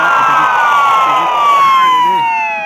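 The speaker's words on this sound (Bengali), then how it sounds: "পুলিশের গাড়ি দুইটা" Two police cars in the Justice Rivals 3 cops and robbers video game blare loud wailing sirens, their tones sliding downward as they pass close by.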